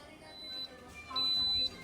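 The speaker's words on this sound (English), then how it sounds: "The timer has come down to 0. It's beeping." An Instant Pot's countdown timer beeps at zero in a kitchen, a couple of faint, thin electronic tones, the second one held longer, over low background hiss.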